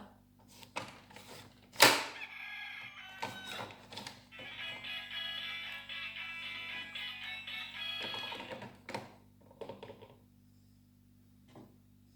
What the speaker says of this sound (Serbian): a ovo je petao.